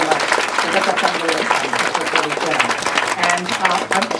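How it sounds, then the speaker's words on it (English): Applause from an audience, a dense steady wash of clapping lasting several seconds, with voices mixed in underneath. "let's give them another round of applause"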